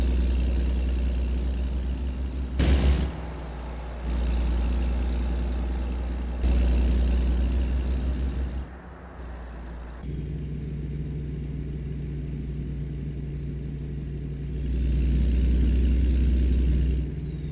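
A Kenworth K100E truck in American Truck Simulator rumbles along with a deep, steady engine drone that shifts in pitch and intensity through gear changes and brief dips, loud and continuous.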